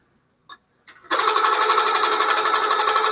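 Sewing machine stitching a quilted feather motif: a couple of short clicks, then the motor starts and runs in a steady, loud, fast stitching whir that continues without pause.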